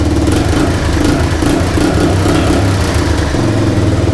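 An old, long-stored Honda project vehicle's engine runs loud and close, a steady mid-pitched rumble at idle with slight unevenness, no talking over it.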